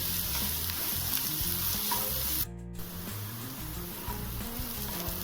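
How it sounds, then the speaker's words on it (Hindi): Finely chopped carrot, capsicum and other vegetables sautéing in a pan for a Chinese-style dinner, a steady close sizzle with brief stirring scrapes and a short pause partway through. "तो चलिए इस सारे वेजिटेबल को थोड़ी देर सौटे कर लेंगे"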